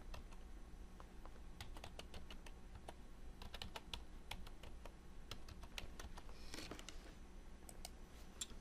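Card payment details typed on a computer keyboard: a steady run of quick, close key clicks in irregular bursts over a soft background hum, with no talking.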